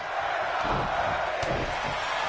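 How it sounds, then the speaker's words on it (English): Wrestling crowd at a WFA Empire Rising event chanting in unison, a dense, steady roar of many voices filling the arena without a break. "You hear the crowd here saying we're not worthy."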